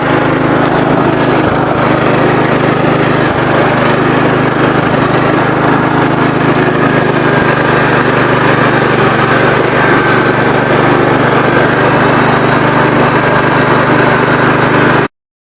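A 1980 Wheel Horse C145 garden tractor engine runs steadily, a loud, close, continuous mechanical drone with a constant low hum and no voices, holding an even level before cutting off at the very end.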